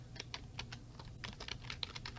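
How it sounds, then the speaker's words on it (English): Keys clatter on a computer keyboard in quick, irregular taps, soft and close, while someone enters a search term into a hospital emergency department order system. "Under the Search All, you need to start typing in the word"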